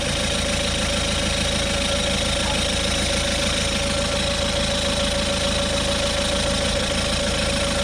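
An Auto XS digital tyre inflator pumping a tyre toward 35 psi, with a steady, loud mechanical drone and rapid knocking vibration of its small compressor running continuously throughout.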